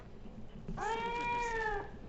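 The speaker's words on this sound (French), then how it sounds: "ce sont les chiots qui sont en train de miauler" A single drawn-out, high-pitched meow, clear and fairly close, rising then falling over about a second in a quiet room.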